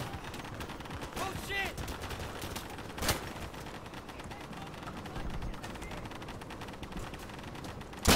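Sniper gunfire from the World War II shooter Day of Infamy: a crisp rifle crack mid-clip and another at the very end, over continuous battlefield noise with a voice talking.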